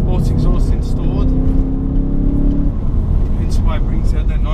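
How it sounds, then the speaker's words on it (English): BMW M3 V8 with a sports exhaust growls loudly and rises then eases off, someone talking over the engine throughout. "hence why it brings out that nice V8 growl"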